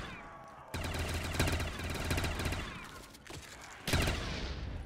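Sustained bursts of automatic machine-gun fire in Black Ops 3 Zombies on a custom map, loud and close, with a brief pause before another rattling burst resumes.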